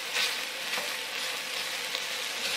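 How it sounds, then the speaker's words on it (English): Chopped bacon frying in a pan for potato soup gives a continuous, even sizzle with soft crackles at moderate volume. "Let this bacon cook down and get crispy."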